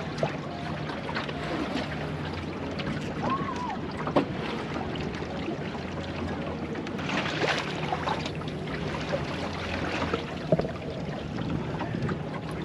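A Welsford Navigator sailing dinghy moving in light winds: a steady wash of water and breeze around the hull with soft creaks and faint knocks, and no talk.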